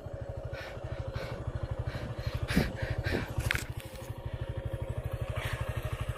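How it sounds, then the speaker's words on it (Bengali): A motorcycle engine, started without its key, runs at a steady idle with a close, even rapid thumping, broken briefly by a couple of clattering knocks midway. "চাবি ছাড়া স্টার্ট হচ্ছে বাইক।"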